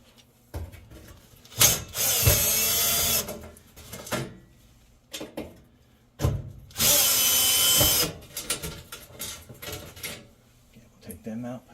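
Power drill backing out two screws from the burner tray of a Samsung gas oven that won't ignite or stay lit, two separate whirring bursts of about two seconds each, close and loud, with quieter handling clatter between them.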